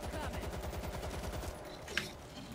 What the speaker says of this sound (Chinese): 自动防御机枪